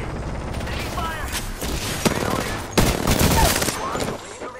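Heavy gunfire rattles through an Apex Legends match, with rapid overlapping bursts and sharp reports in quick succession, loud and close, while a character voice speaks over the shooting.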